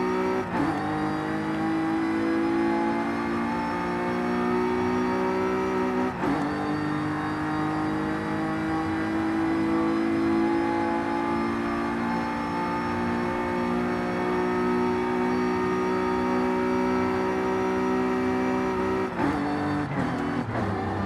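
A car in Forza Horizon 5 with an 8-speed gearbox accelerates on a highway, its engine drone rising steadily and holding high for a long stretch, broken by two brief gear shifts, loud and alone.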